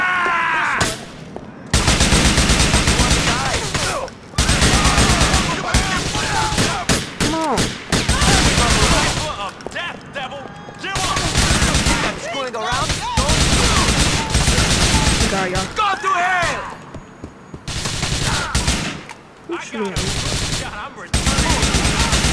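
Gunfire in Grand Theft Auto IV during a street shootout, loud sustained bursts of automatic and rapid fire repeating over about twenty seconds with brief pauses, with shouted voices mixed in.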